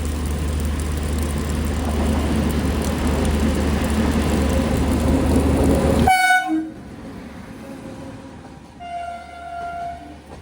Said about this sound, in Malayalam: ട്രെയിൻ ഇതാ കടന്നു വരികയാണ്.